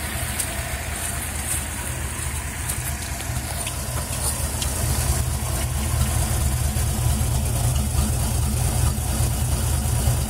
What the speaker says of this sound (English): beautiful sounding motor, and she is running.